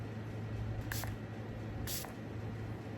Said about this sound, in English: It has a very fine mist. I don't know if you can see it or not, but I'll spray some.